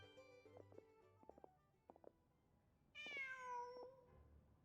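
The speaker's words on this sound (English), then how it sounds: "Just a cat." A cat in the video game Genshin Impact gives a single clear, drawn-out meow after a few soft scattered sounds, fairly close and quiet, with no talk over it.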